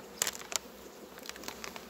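Honeybees buzz softly on a single hive frame of a small colony, with a few sharper close passes standing out over a steady faint hum.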